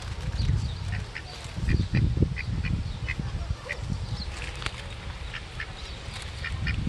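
Ducks quacking repeatedly at Maui Tropical Plantation, a run of short nasal calls over a steady outdoor background with low rumbling noise.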